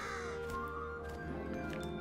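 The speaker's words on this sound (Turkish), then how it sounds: "O bir karga mıydı?" Crow cawing in the video game Gravity Rush Remastered, a few harsh caws over a steady musical game background, moderately close, with no speech.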